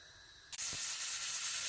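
A sudden loud burst of steady, high-pitched steam hissing from a pressure cooker cooking mustard greens starts partway through and continues strongly to the end.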